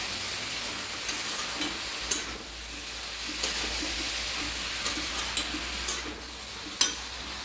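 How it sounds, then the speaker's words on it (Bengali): Cabbage and peas being stirred in a frying pan, a steady soft sizzle with several sharp scraping clicks of the spoon against the pan spaced through the clip, close and fairly quiet, no voices. "সব একসঙ্গে ভালো করে মিশিয়ে নেব।"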